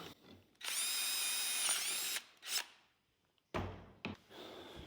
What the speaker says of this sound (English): Let's drill it right through.